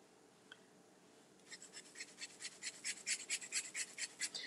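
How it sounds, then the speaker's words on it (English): Lemon being zested on a plain fine grater over frosting, a quiet run of rhythmic rasping strokes that starts after a short pause and grows slightly louder, close and alone with no talk. "I'm just zesting this over the frosting that we're making"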